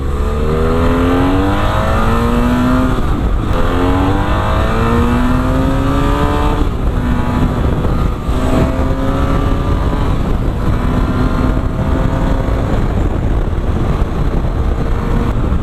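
A 2017 BMW F800R with its 800 cc parallel-twin engine revs hard through the gears toward the redline, loud and continuous, with rising and falling pitch sweeps from shift to shift.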